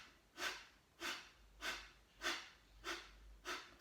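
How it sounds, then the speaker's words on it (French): Kapalabhati yoga breathing, a diaphragm exercise with forceful exhalations through the nose: six sharp, even puffs about every 0.6 seconds, close and quiet, with no talking. "Kapalabhati, qui est donc l'exercice de respiration avec le diaphragme,"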